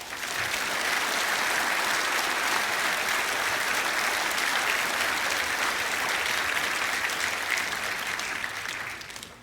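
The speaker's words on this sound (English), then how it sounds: "I think it's appropriate we give them a round of applause." Applause for the staff at a school awards evening, a dense, sustained round of clapping from a large audience, loud and even throughout before tapering at the very end.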